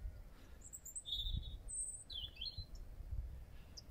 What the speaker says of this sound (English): what type of bird that is in the top of that tree singing his or her little heart out